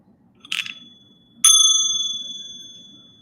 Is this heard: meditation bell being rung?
yes